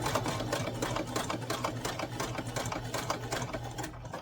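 Sewing machine back-stitching Christmas bunting made from fabric squares and bias tape, a rapid steady stitching chatter with a low motor hum running throughout, close and continuous with no talk.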